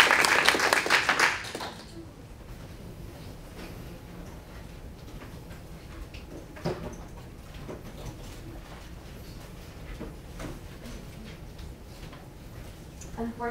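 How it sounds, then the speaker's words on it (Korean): At a 2017 conference session, an audience bursts into brief applause that fades within about two seconds, leaving a quiet room with only scattered faint taps and clicks. "큰 박수로 큰 박수"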